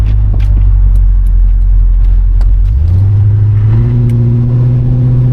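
A loud 350 V8 engine in a 1969 Pontiac LeMans convertible rumbles low, then its pitch climbs as it accelerates, the growl rising steadily and staying close throughout.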